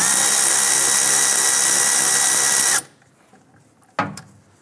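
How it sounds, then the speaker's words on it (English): A power driver with a 7 mm socket loosens the screw clamp on the fuel filler tube of a 2002-2008 Dodge Ram 1500, a loud close whir lasting under three seconds before stopping, followed by a single sharp click. "using a 7 millimeter socket, loosen that clamp"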